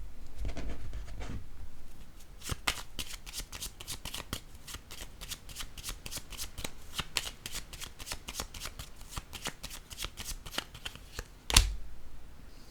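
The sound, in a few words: shuffling cards for a card reading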